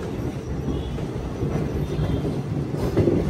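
An express train running from Chennai to Sainagar Shirdi sits at a platform of a station, a steady low rumble of rail cars and engine filling the air with faint clatter throughout.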